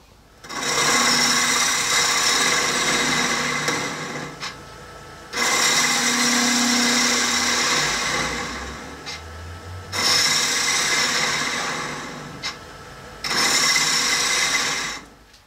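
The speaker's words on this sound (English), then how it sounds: "we're going to completely clean this up and give it a light sanding just to make this nice and flush." A wood lathe spins a pepper mill blank while it is cleaned up and sanded, a steady whirring hiss in four long passes of several seconds each, separated by brief pauses, close and moderately loud with no talk.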